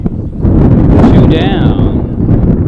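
Loud, low buffeting rumble of wind hitting a microphone at a baseball game, continuous and blustery, with a faint voice underneath.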